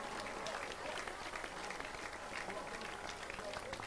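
Congregation clapping at a church healing service in Asaba, a dense, steady wash of many hands sustained throughout with voices mixed in.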